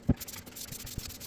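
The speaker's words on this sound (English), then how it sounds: "I call them sanding blocks. Let's just go over all edges again." Short, soft scrubbing strokes of a hand sanding block running over the edges of a scrap wood bench top, quiet and close, with one sharper scrape near the start.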